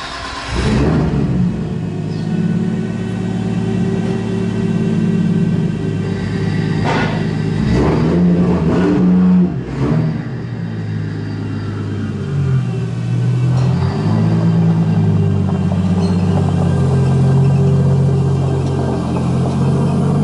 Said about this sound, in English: let's drive this thing on the trailer.